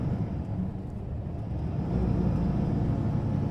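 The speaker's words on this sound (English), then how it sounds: "You can hear that check brake back there in the background." A long-distance bus on the Manila to Tuguegarao route rumbles with its check brake engaged, a steady deep drone heard from inside the cabin that swells a little louder partway through.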